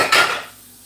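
A short clatter of pots, pans and cutlery knocking together in a kitchen sink, one bright metallic clash that quickly dies away into near quiet.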